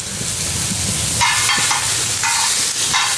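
Chopped onions frying in hot oil in a pan for kothu parotta, a steady close sizzle with bursts of brighter crackling as the onions are stirred, no talking.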